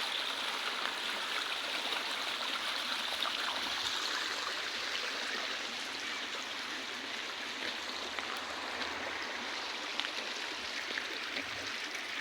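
A forest stream flows steadily, with a continuous rushing and gurgling of water at moderate distance and no voices.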